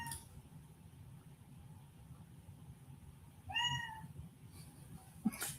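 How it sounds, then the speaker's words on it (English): A cat meows once in a clear, rising call mid-way through, fairly close but soft against a quiet indoor background, followed by a brief faint bump. "Are you meowing at me, Titan?"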